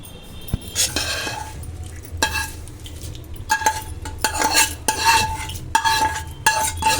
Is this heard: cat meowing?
no